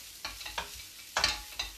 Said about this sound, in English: So all I've done, I'm now just frying that off.